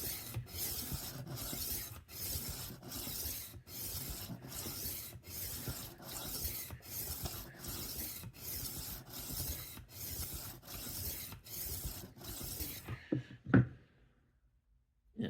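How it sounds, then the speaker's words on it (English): A 12-inch Henkel chef knife is drawn across a flat sharpening plate with a steady rasping rhythm. There are about a dozen even passes, each separated by a brief gap, close and alone, before a few clicks and then silence. "So we got the plate flat against the knife."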